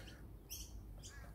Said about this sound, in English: the sun is rising, the birds are chirping